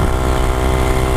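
A Honda Grom motorcycle with a 17-tooth sprocket is held wide open in third gear climbing uphill, a loud, steady, buzzing engine drone heard up close for about a second.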